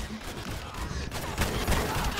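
Rapid volleys of blaster cannon fire in the Star Wars Battlefront video game, dense bursts of shots layered over battle noise, fairly loud and close.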